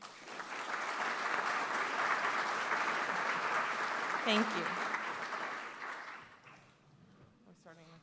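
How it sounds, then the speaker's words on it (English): An audience claps steadily and warmly at a formal event for several seconds, then the applause thins and fades out, with a brief spoken thanks heard near the end. "Please give them a round of applause."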